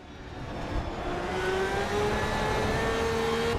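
Porsche 911 racing car at the Nürburgring in Assetto Corsa EVO, engine revving up with rising pitch and growing loudness, then holding a strong sustained whine through a gear, heard alone.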